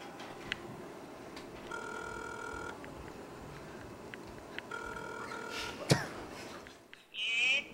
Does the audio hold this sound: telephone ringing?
yes